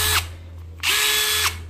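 A DeWalt drywall screw gun whirs at high speed in two close, loud bursts, each revving up and stopping, with a steady low hum between them.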